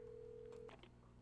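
A telephone in the Alan Wake video game gives off a steady tone that cuts off abruptly, followed by a couple of short clicks, all quiet and brief.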